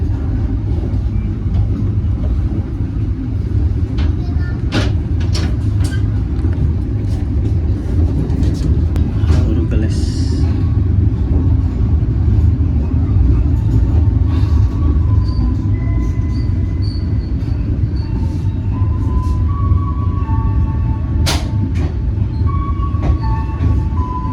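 The KA Gaya Baru Malam Selatan train rolls into Jatibarang station with a steady low rumble of wheels and carriages, and brief squeals and clanks rise above it, heard from on board.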